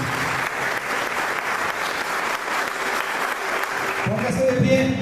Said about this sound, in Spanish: Denle el aplauso a nuestro Dios esta noche.